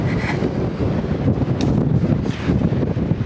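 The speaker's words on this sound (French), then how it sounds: "il y a le vent qui se lève, même la caméra est prête à tomber" Steady wind buffets a camera microphone outdoors as the breeze picks up, a continuous low rumbling roar with gusty swells throughout and no speech.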